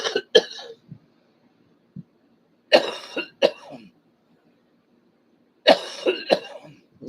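Three separate bursts of coughing, each a quick cluster of two or three hacking coughs, close by with quiet pauses between them.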